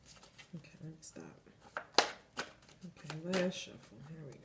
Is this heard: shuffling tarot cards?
yes